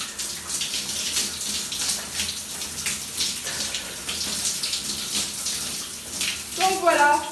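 Water runs steadily from a tap into a sink while someone rinses their face after a homemade face mask, a continuous close splashing gush that ends with a brief burst of vocal sound.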